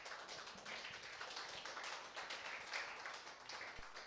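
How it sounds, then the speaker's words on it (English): A church congregation stands and claps together in praise during a worship service, a dense, steady wash of many hands filling the room with scattered louder taps. "can we give a clap of praise to our Lord Jesus Christ"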